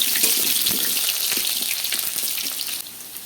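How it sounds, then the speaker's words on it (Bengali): Potatoes fry in plenty of oil in a wok, giving a dense, bubbling sizzle up close that eases off slightly near the end. "আলুগুলো লাল লাল করে ভেজে নিতে হবে"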